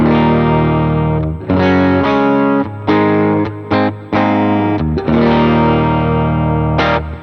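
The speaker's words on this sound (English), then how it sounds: "Then we go to the amp block, and I'm using again the AC30 Fawn, and these are my settings for that." Electric guitar through an AC30 Fawn amp model on an HX Stomp plays loud, slightly broken-up chords with chorus-like shimmer, strummed in repeated bursts separated by brief pauses.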